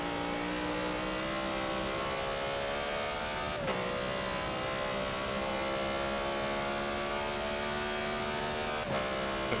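A BMW Z4 GTE race car in a racing video game roars at high revs around Silverstone, a steady engine whine rising in pitch with two sharp gear shifts, loud and continuous with no speech.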